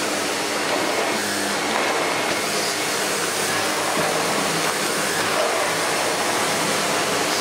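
A Miele Revolution 500 S556 vacuum cleaner runs with a steady, loud broadband whoosh and motor drone, unbroken and without talk for the whole stretch.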